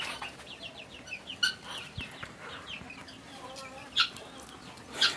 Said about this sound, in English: That's the guinea fowl.